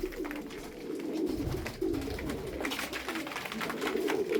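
Yozgat tumbler pigeons cooing softly at close range in a loft, low repeated throaty coos overlapping with faint rustling, quiet and continuous.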